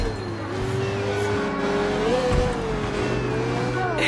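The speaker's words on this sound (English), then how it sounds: "This car can go faster than this" A car accelerates in the video game Sleeping Dogs, its engine note climbing steadily under continuous road noise, with brief tire squeal and a voice speaking over it.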